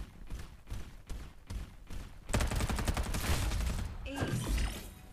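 Gunfire in the mobile game Farlight 84 starts as a handful of spaced single shots, then turns into a loud, sustained automatic burst with clattering mechanical sounds near the end.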